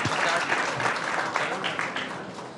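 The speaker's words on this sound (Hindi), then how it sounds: "जोरदार तालियां हो जाए।" An audience at a televised Chaupal event in Himachal Pradesh breaks into sustained applause, a dense wash of clapping from a crowd heard alone at moderate volume for a few seconds.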